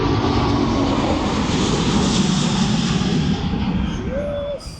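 A large aircraft passes overhead with a loud, sustained engine roar that swells and then slowly fades as it moves away over nearly five seconds.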